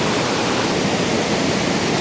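Water tumbles loudly and steadily over slippery rocks at a waterfall, with river water rushing close beneath, forming a dense, unbroken roar with no voices.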